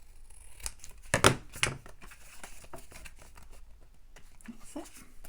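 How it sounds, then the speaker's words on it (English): Scissors snipping through paper and card for a junk journal, a few sharp, crisp cuts close by, clustered together and followed by quieter rustling and handling noises. "Trim it with your scissors once you've got your other one"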